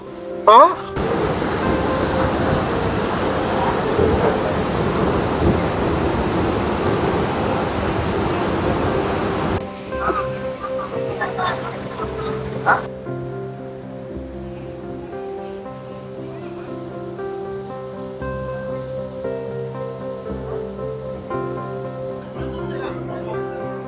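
Athirappilly waterfall in Kerala, a loud, dense roar of falling water that fills the first half, then gives way to quieter ambience with a steady hum and faint voices.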